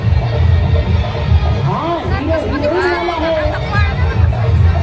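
Dense crowd babble at a village fair (yatra) near the Khandeshwari temple, a steady wash of many overlapping voices and low rumble throughout, with a few nearer voices rising out of the hubbub.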